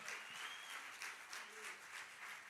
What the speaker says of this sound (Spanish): Y se le va a dar un aplauso al Señor, déselo bien fuerte